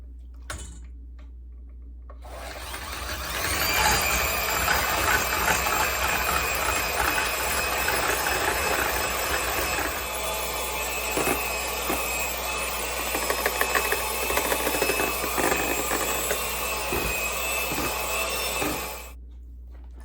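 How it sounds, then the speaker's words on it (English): An electric hand mixer whips heavy cream toward stiff peaks, a steady motor whir with fine rattling, starting after a short quiet lead-in and running continuously, close and fairly loud, before cutting off at the end. "now I'm going to beat it with my hand mixer until it forms peaks"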